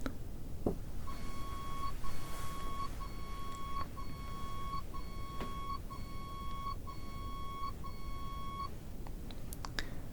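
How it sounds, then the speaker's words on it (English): A series of short, clear tonal beeps in evenly spaced groups, steady and moderately loud over a soft background hiss, like a hearing test. "How many beeps was that?"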